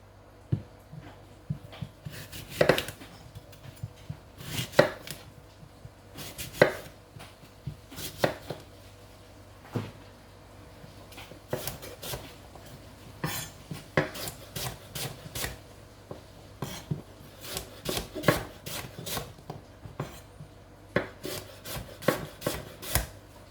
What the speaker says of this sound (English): So I'm going to go ahead and chop these ginger up.